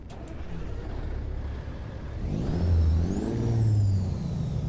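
A Kenworth C500 truck with a Caterpillar 3406 diesel engine revs in American Truck Simulator, a steady idle rumble swelling into two loud, drawn-out throttle pulls near the end, with a faint whine over them.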